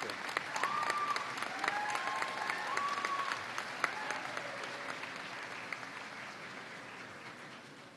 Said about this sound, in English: We're just having a little applause because it's such a big group.